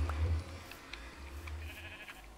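A sheep in the New World video game gives a short, nasal bleat, clear and close, over a low steady game background with no speech.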